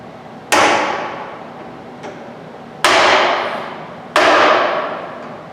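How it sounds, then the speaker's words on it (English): Three sharp, heavy whacks of a dead blow hammer striking the top of a drawbar, each ringing off briefly, with a faint tap between the first two. "I'm going to take this dead blow hammer."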